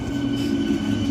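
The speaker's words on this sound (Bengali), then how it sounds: "তো ট্রেন আসছে, ওই চলে এসছে।" A train pulling into a station on a cold foggy morning, a loud steady rumble of rolling wagons close by, without voices.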